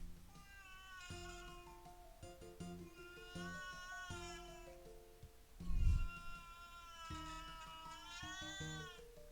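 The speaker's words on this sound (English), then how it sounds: "I don't know if you guys can hear her meowing." A cat meows repeatedly in long, drawn-out, tonal calls separated by short pauses, close and fairly clear, with one brief louder bump in the middle.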